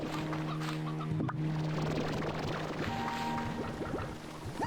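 Chickens in the video game Slime Rancher 2 cluck and chatter in short overlapping calls over a steady game backdrop, close and fairly loud throughout.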